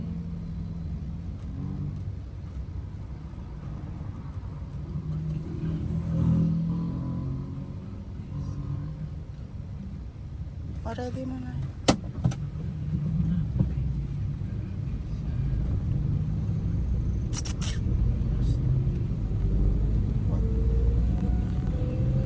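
Cars pass on a road in the Philippines, a continuous low rumble of traffic that swells and fades, with a few sharp knocks and brief talk partway through.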